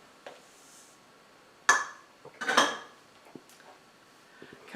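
Spoons and utensils clink and scrape against a bowl while dry keto chocolate cake ingredients like coconut flour are stirred, a few distinct bright knocks spaced among quieter rustles.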